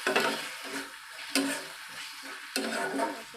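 Water is added to spices frying in a pan for a potato and pointed gourd curry, giving a steady sizzle with stirring scrapes and two sharp bursts of spitting as the liquid hits the hot oil.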